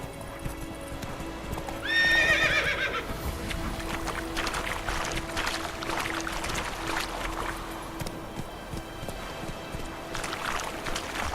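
The horse Roach galloping in The Witcher 3, a steady rhythmic clip-clop of hooves throughout with a loud whinny early on over ambient rushing noise, no talk.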